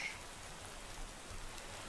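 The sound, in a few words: rain falling in Minecraft OceanBlock video game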